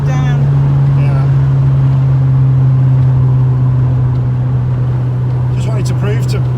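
An Austin Allegro cruising at about 70 mph with a steady, loud droning engine note and constant road and wind roar; voices briefly come in toward the end.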